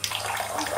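Water splashes over a Galaxy S3 phone during a water resistance test, a short bright gush like a running tap.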